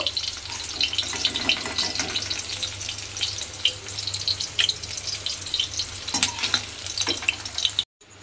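Cubes of paneer fry in hot oil with a steady, crackling sizzle and occasional sharper pops, continuing evenly before stopping abruptly at the end.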